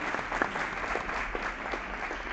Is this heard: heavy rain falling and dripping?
no